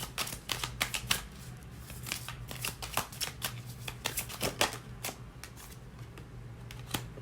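Tarot cards being shuffled by hand in a quiet room, a rapid run of crisp riffling snaps and flicks in uneven bursts, close and fairly soft, with no talking.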